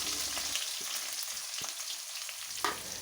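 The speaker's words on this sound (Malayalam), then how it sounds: "ഇതൊന്ന് വഴറ്റിയെടുക്കണം." Onion, tomato, crushed ginger and garlic, mango and kudampuli sauté in a pan for a Kerala-style mackerel fish curry, a steady soft sizzle broken by a few stirring scrapes, close by with no voices.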